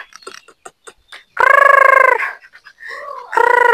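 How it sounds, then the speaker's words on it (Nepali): Chickens at a village coop give two loud, sustained harmonic squawks, one long and one cut off at the end, with softer short clucks and calls between them, close by. "कुखुरा चाहिँ पर बसिरहेछ"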